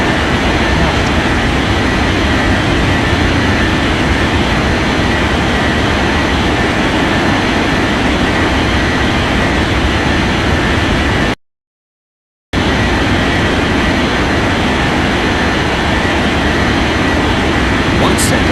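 A jet airliner's engines roar in an air traffic control game, a steady broadband rumble with a brief cut partway through.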